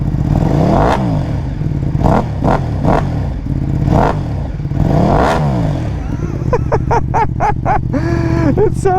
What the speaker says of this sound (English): don't know why it sounds so different from the 959 exhaust, but it really does.